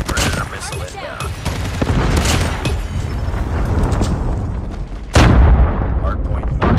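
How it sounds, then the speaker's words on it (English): Predator missile strike in Call of Duty Mobile during a Hardpoint multiplayer match, heard as continuous gunfire and rumbling impacts ending in a loud, close boom near the end, with game announcer voice lines over the action. "Friendly predator missile inbound."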